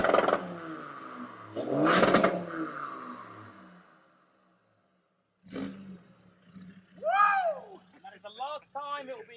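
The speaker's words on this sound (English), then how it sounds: "this is currently a stage 4 side exit straight through TD5 15P engine" Land Rover Defender with a TD5 engine and straight-through side-exit exhaust revs in a workshop, short bursts of engine note separated by a silent gap, with someone talking between and over them.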